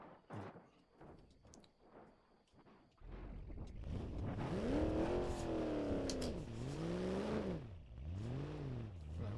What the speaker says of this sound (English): You can just hear it smashing down the hill.